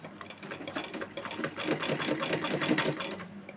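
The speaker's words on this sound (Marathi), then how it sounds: "या ठिकाणी कच्ची शिलाई मारून घेऊयात" Sewing machine running a basting stitch on a designer blouse, a close, rapid mechanical chatter that builds in speed and loudness over a few seconds, with no talking.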